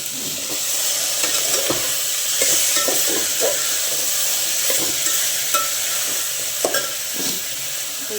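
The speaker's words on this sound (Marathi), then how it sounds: "त्या सगळ्या भाज्यांना व्यवस्थित परतून घ्यायचं" Potatoes, cauliflower and other vegetables for pulao being sautéed in a pan, a constant soft sizzle with scattered scraping and stirring clicks from a spoon.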